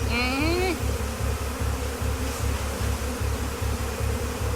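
Loud, steady buzzing of bees swarming close by, with a rapid pulsing drone throughout and a brief whiny tone near the start.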